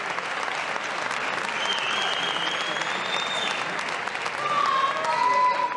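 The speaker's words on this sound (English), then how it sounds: "we can give them a better applause than that, ladies and gentlemen." Steady, sustained applause from the audience at a 1998 NABBA Universe bodybuilding contest, Miss Figure overall, swelling slightly louder near the end, with faint whistles over the dense clapping.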